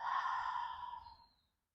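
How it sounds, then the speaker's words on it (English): A single slow exhale out through the mouth during a cool-down yoga session, soft and close, fading away over about a second and a half into silence. "And exhale out of the mouth."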